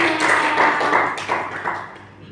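Small audience clapping in a classroom or teacher-training session for a teacher's explanation, a short burst of close hand claps that tapers off over about two seconds with a little voice underneath.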